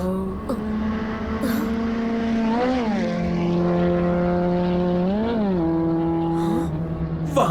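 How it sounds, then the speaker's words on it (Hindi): A steady scooter engine drone in a children's cartoon, with a harmonic whine that rises and falls in pitch twice, running loud and continuous throughout. "वहाँ से स्कूटर की आवाज आई"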